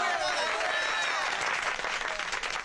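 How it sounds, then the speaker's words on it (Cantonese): Street crowd applauding loudly and continuously for an arriving official in a Cantonese comedy scene, dense clapping filling the whole moment with a few voices faintly mixed in. "大家俾啲掌聲！"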